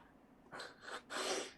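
A voice imitates snoring coming from a tree during a tabletop fantasy role-playing game: three breathy, snorting inhale-like bursts, close and fairly quiet, the last one longest.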